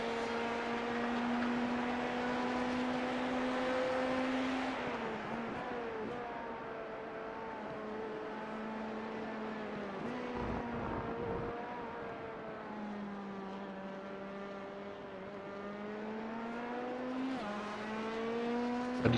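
An LMP2 race car in a racing game at Silverstone holds a loud, steady engine drone at full throttle, its pitch rising and dipping through gear changes and corners, with no voices.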